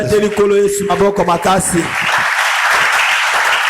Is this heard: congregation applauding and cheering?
yes